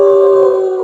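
A sustained, steady howl with a strong tonal core, held loud and close for under a second and fading slightly at the end; the pitch matches a voice imitating a dog's howl.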